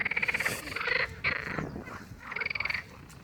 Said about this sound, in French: là, c'est les grenouilles qui s'expriment